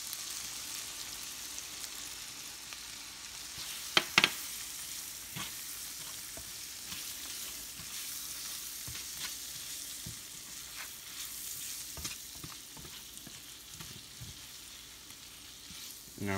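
Spiced shrimp coated in cumin, salt, garlic powder, onion powder and cayenne fry in a pan with a steady, soft sizzle throughout, broken by a couple of sharp clinks of a utensil and occasional light stirring scrapes.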